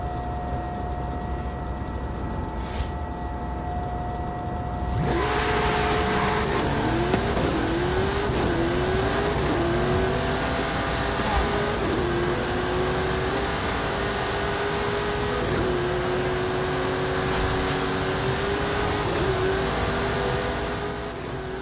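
A video game race car launches at the start of a race. Its engine note jumps to a loud roar, then climbs steadily through several gear changes, each marked by a short dip before rising again, with no voices.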